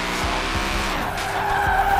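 Ford F150 drifting through a dark city in a Forza racing game, its tires squealing in a continuous loud skid over a steady engine drone, close and prominent throughout.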